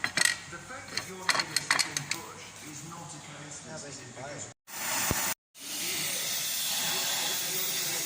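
A gas torch hisses steadily while heating the bottom axle plates of a MAN 4x4 truck, with metallic clinks early on, brief cutoffs midway, then a continuous close roaring hiss.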